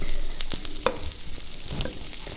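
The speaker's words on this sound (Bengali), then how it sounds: "এখানে পেঁয়াজটাও ভাজতেছি এক সাইডে" Steady sizzling of onion and chicken frying in a pan, with occasional clicks and scrapes of stirring; no talking.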